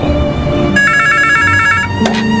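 An old-style telephone bell rings loudly in rapid, even trills, a sharp ringing burst that stops and briefly starts again, used as a podcast sound effect with no voices.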